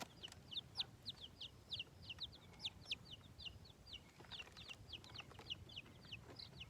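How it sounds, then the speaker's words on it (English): Quick, high-pitched chick peeping and a hen's soft clucking repeat rapidly in a busy cluster, fairly faint over a quiet background. "The mother hen clucks and drops food in front of them."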